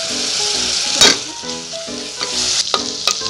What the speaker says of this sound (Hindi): ब्राउन हो चुकी है, अब हम उसमें डालेंगे अदरक लहसुन का पेस्ट।